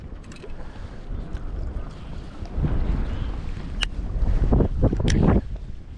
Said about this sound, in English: Gosh, but it is windy